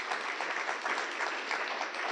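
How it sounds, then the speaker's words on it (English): Steady crowd applause at a university prize-giving ceremony, a dense even wash of many hands clapping without pause, moderately loud and heard alone. "let's give them a round of applause and say thank you."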